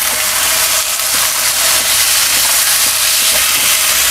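Fish goes into a pan of sautéing spices for gulai with noni leaves and sets off a loud, steady, continuous sizzle that runs unbroken with no talk over it.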